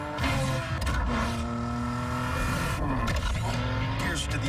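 A BMW 3 Series sports sedan drives hard in a car commercial, its engine note rising and falling through gear changes, loud and continuous with a brief dip midway.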